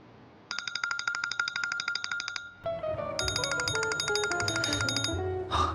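A phone rings with a rapid, trilling electronic bell tone, first in one burst and then in a longer, fuller second phrase, loud and close, with no talking.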